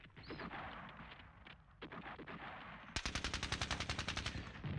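Light machine gun fire in a World War II strategy video game, short bursts early on, then a rapid run of about fifteen evenly spaced loud shots.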